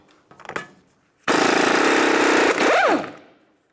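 A loud, steady rattling hammer of an impact wrench removing a 30mm axle nut on a 2002-2005 Ford Explorer runs for under two seconds after a brief clatter, then dips and winds down with a whine.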